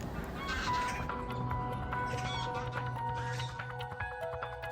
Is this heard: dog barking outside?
no